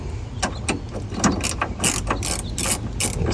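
A ratchet wrench loosens a 10mm bolt on a 1993–2002 Camaro or Firebird window track, giving quick bursts of sharp, close clicking in an uneven rhythm.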